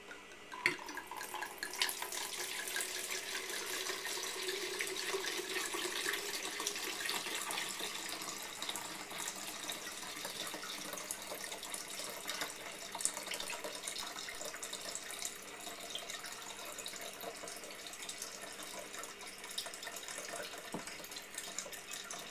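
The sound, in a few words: pouring rum and vodka into a pitcher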